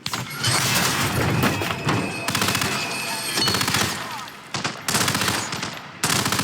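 Rapid gunfire at a shooting range in the video game Hitman: dense, loud bursts of shots fired in quick succession, broken by a few short pauses.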